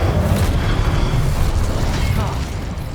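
The Incendio fire spell blasting in Hogwarts Legacy, a dense roaring whoosh of flame with low rumbling booms, loud and continuous for a few seconds.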